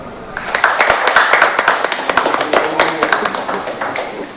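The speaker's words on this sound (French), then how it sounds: "Des applaudissements nourris ont accueilli le chef de l'État Idriss Déby Itno." Sustained applause from a crowd welcomes Chad's head of state Idriss Déby Itno, dense overlapping claps ringing out evenly and loudly throughout.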